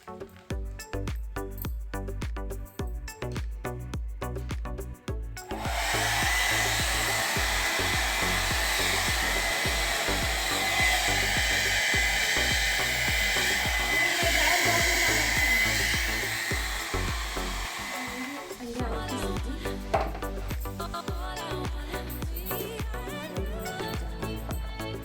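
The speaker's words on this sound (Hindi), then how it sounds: "कर लेते हैं अपने बालों को हेयर ड्रायर से ड्राई" A Havells hair dryer runs steadily for about thirteen seconds as it dries wet hair indoors, a loud continuous blowing whoosh that starts abruptly, holds, then cuts off.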